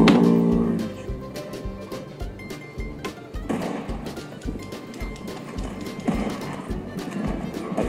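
Hoofbeats of a horse galloping in the video game Red Dead Online thud in a steady run, with a whinny near the start and game noise around them.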